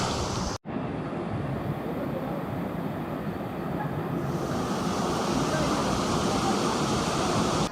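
Rushing water at Aripo Waterfall in Trinidad pours as a steady, dense roar close to the listener, continuous throughout with one brief dropout near the start.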